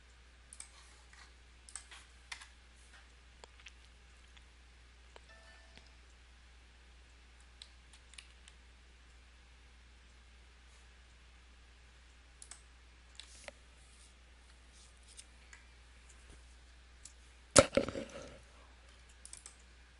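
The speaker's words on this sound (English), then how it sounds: "you're going to type in manual payroll and hit search." Faint, scattered clicks from a computer keyboard being typed on, ending in a louder click for search, all sparse and quiet over a steady low hum with no talking.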